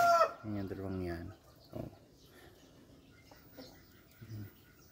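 Backyard chickens clucking and crowing, with a loud drawn-out rooster-like call at the start, then a short cluck and a softer one later, while a person talks nearby.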